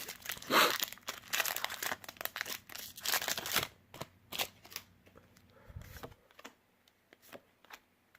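A Magic: The Gathering Core Set 2019 pre-release booster pack wrapper crinkles and tears open close by, a dense burst of crackling foil in the first few seconds that fades into lighter rustles and card shuffles.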